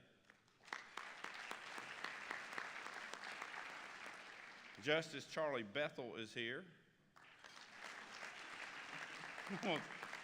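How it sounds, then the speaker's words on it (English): An audience at a state bar annual meeting applauds steadily, with a person speaking briefly over the clapping midway through. "I'm going to just let y'all see how long y'all can clap."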